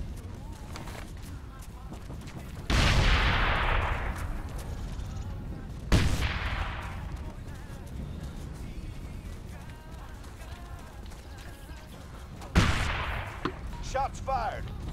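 Video-game gunfire rings out as three sharp, loud shots spaced several seconds apart, each with a decaying tail. Background game noise and voices run underneath.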